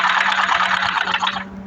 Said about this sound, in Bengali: এখন সোজা সেলাই দেব নিচের দিকে।